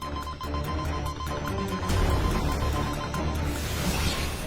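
A telephone rings in rapid repeated bursts of bright trilling, fairly close, then stops partway through while a low rumble continues underneath.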